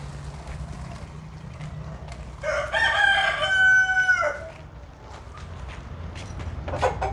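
Yellow chickens in a farmyard coop: one rooster gives a loud, close crow lasting under two seconds, with soft clucking, shuffling footsteps and general coop noise around it.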